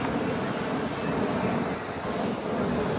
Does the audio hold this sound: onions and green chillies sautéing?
no